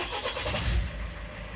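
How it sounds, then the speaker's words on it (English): A 2019 Citroen Berlingo 1.5 HDI diesel with a P008B fault code, bought as a non-runner, starts up nearby: a brief cranking rumble that settles into a low engine hum. "what we'll do, we'll start the car."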